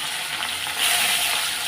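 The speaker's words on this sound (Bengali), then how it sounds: "তো সব কটা মাছই ভাজা বসিয়ে দেবো" Fish frying in hot oil on a home stove, a steady close hissing sizzle that swells slightly midway, with no voices.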